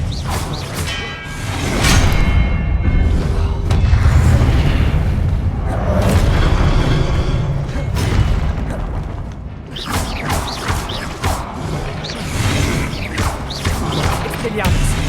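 Spell effects crash and whoosh in a Harry Potter video game as Expelliarmus is cast, booming impacts and swishing blasts layered over a dense, continuous game soundscape.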